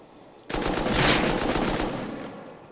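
Rapid automatic gunfire in the survival game Rust during a large oil rig assault, a loud sustained burst of about two seconds that starts abruptly and then cuts off.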